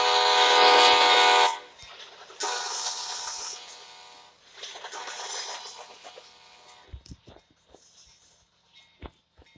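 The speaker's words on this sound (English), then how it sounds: "Oh, what's that train? Just a freight train." A freight train blows its horn loudly up close in a long blast, then in shorter repeated blasts that fade into lighter rumble and clanks as it passes.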